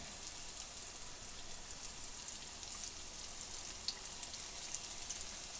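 Chocolate doughnuts frying in a pan of oil, a soft, steady crackling sizzle with fine pops throughout, fairly quiet and unaccompanied.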